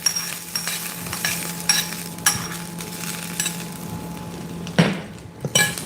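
Hot phodni tempering poured over a sweet, sour and spicy onion and raw mango chutney gives a soft sizzle, with spoon stirring and scraping in bursts and a sharper clink near the end, close and moderately quiet.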